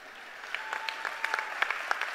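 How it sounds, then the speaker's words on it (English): Scattered, faint applause from an audience at a university presidential installation ceremony, a few distinct claps and light patter rising unevenly over a quiet hall. "let's clap for that"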